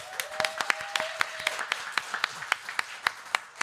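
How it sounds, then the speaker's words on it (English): Audience applause at a live event in the Hard Rock Cafe in Philadelphia: a crowd clapping continuously, with sharp individual claps standing out close by over a dense wash of hands and a faint murmur. "Give them a round of applause."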